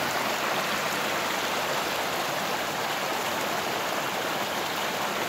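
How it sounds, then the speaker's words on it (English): A mountain stream flows nearby in a steady, broadband rush of water, constant and fairly loud with no pauses or voices. "Nice stream coming down."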